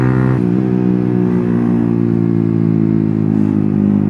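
Yamaha TFX motorcycle riding in traffic, its engine a steady close drone with a brief shift in pitch near the start, loud and continuous.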